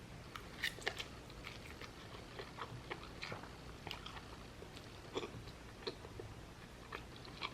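Close, quiet chewing and biting of extra-spicy noodles with seasoned mushrooms, soft crunchy bites and mouth sounds repeating irregularly with no talking.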